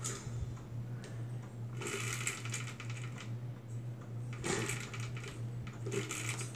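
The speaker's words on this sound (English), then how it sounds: "So you can hear the ratchet." Film projector reel spun by hand, its ratchet giving fast rattling clicks in two bursts over a steady low mechanical hum, close up.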